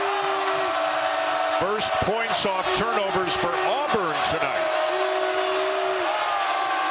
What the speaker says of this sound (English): Now this crowd is into it.